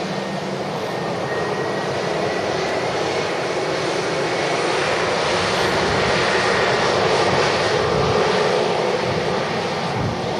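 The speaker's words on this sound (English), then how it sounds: "A320neos, they've got a lot of power in the engine, so even at idle thrust like it is now" Steady, loud Airbus A320neo engines at idle thrust, a continuous broadband roar with a faint high whine, holding level throughout with no voices.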